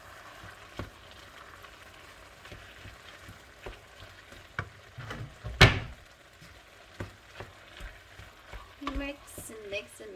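Eggroll or lumpia filling being stirred and mixed in a bowl, soft repeated scraping and tossing sounds with one sharper knock midway, close and fairly quiet, no voices.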